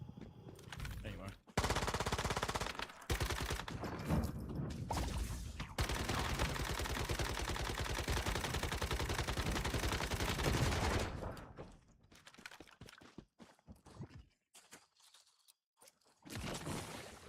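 Rapid automatic gunfire in the survival shooter Once Human: loud, dense, sustained bursts for several seconds, then sparser, quieter shots and pauses near the end.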